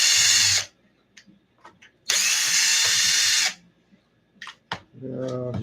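A power drill backs a stop plate bolt out of an ARRMA Kraton 12S RC car with binding steering, two loud sustained whirring bursts separated by short clicks, followed by brief talk.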